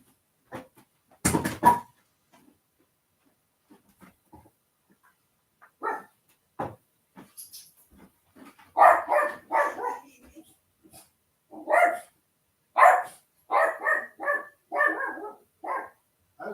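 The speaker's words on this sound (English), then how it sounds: "Could just be a dog hearing something outside." An indoor dog barks in scattered bursts, a few isolated woofs early on and then clusters of loud, close barks and yips toward the end, separated by quiet gaps.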